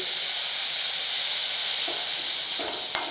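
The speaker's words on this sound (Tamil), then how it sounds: "இப்போ நீங்கள் இதில் கொஞ்சமாக தண்ணி தெளிங்க." Steady broadband hiss and sizzle as water is sprinkled onto semolina roasting in a hot pan, with a couple of brief crackles near the end; no voices.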